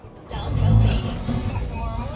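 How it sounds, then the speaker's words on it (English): A small sports hatchback's engine starts and revs once, a loud low surge that swells then settles into a rough idle, with some talk mixed in. "Let's start the engine."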